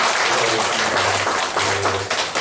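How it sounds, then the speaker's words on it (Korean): A church congregation at a Sunday service applauds, a dense, loud burst of many hands clapping that holds evenly for a couple of seconds before thinning slightly at the end, with a faint low hum underneath. "우리 수고하신 우리 모든 이들을 위해서 박수 한번 보내할까요?"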